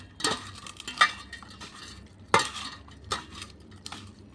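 Beef fat being stirred and mixed with spices, saffron among them, in a metal bowl to marinate: a few sharp clinks of a spoon against metal over scraping and stirring, at close range with no talk.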